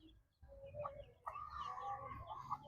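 An old bantam chicken clucks close by in short, uneven calls, with a few brief higher notes rising over soft background farmyard noise.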